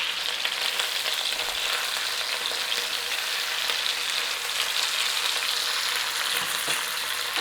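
Paprika sizzles and fries in a hot pan with a steady, dense hiss that holds level throughout, broken only by faint stirring.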